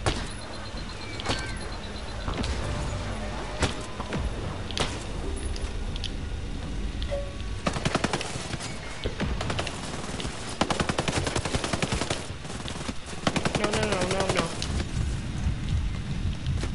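Gunfire from the video game Ghost Recon Breakpoint, with repeated sharp shots and short automatic bursts over a busy game soundscape, growing denser and louder toward the end.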